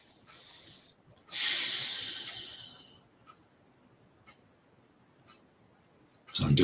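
A person breathes, with a loud drawn-out exhale or snort, then faint quiet breaths and a sharp noisy burst at the end, close to the microphone.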